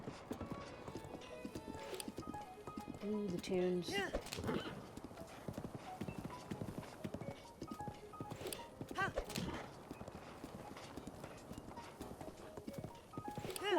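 Horse hooves clip-clop rhythmically at speed in the Breath of the Wild video game, repeated muffled thuds with a brief whinny, under game music and someone talking over it.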